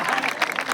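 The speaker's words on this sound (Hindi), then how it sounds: "तो ताली बजाइए, एनर्जी मिलती है।" An audience at a Mahashivratri poetry gathering claps in a steady patter of applause, with a voice speaking over it.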